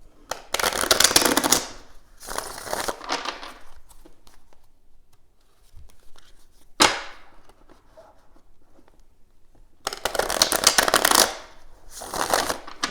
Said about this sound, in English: Let's go ahead and a couple more shuffles.